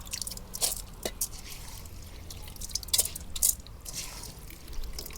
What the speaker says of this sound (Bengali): এই যে পড়তেছি পানি